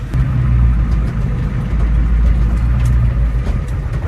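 A cheap diesel truck engine runs steadily while backing up, a loud, close, low rumbling drone that holds even throughout without pauses.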